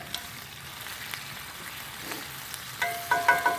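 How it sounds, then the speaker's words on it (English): Sauerkraut and smoked sausage sizzle softly in a cast iron skillet, a quiet steady crackle that picks up a few sharper clinks and pops toward the end. "that kraut cooking smells great"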